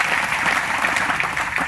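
An audience claps for the SDC chairperson at a Saura community assembly in Janiguda area, a dense, even burst of many hands that holds steady and fairly loud throughout with no talk.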